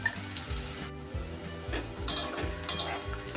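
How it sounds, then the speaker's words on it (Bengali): Onions frying in a pan for palak paneer make a constant close sizzle, with a low rhythmic hum running underneath and no talking. "পেঁয়াজটা আমার ভাজা হয়ে এসছে,"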